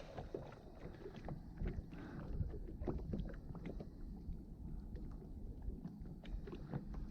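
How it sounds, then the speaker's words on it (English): Wind blowing over open water while fishing for spring crappie from a standup paddleboard, a steady low rumble and buffeting against the microphone with faint water movement, with no talk. "It is windy and it is not very warm out"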